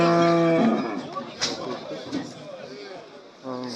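Oxen in a long row on a cattle farm at a livestock market give a loud, drawn-out moo at the start and another low call near the end, with rustling and muffled background activity between.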